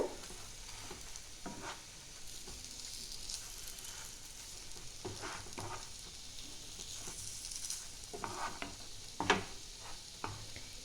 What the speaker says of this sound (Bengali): এইটাও ওইভাবেই ভেজে নেব